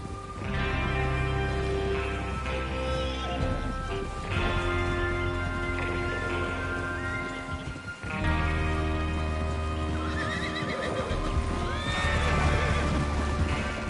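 Horses neigh and whinny over a steady rumble of galloping hooves in Red Dead Redemption 2 Online on PS4, loud and continuous with a busy, layered background.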